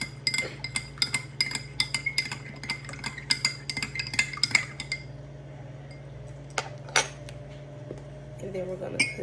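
A spoon stirs table salt into water in a glass, giving a rapid run of bright metallic clinks against the glass for about five seconds, then a few scattered taps, all close up with a steady low hum behind.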